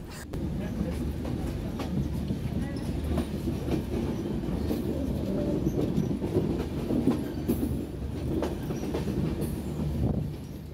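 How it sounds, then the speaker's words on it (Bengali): A train rolls slowly across the Jamuna Bridge, a steady loud rumble with rhythmic wheel clatter heard from inside a carriage, faint voices mixed under the noise. "যমুনা সেতুর উপরে এই রেল লাইনের উপর দিয়ে রেল চলে খুবই ধীর গতিতে"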